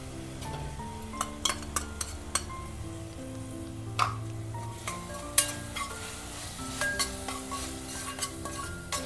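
Tomato and garlic sizzling and frying in a pan for an egg pulusu, with steady crackle, soft stirring scrapes and a few sharp utensil clicks against the pan, close and continuous with no talking.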